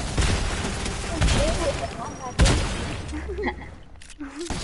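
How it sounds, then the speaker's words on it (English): Compact SMG gunfire in a video game, rapid bursts of shots mixed with impacts and game effects, loud and close, with people talking over it. "I'm good with the compact SMG"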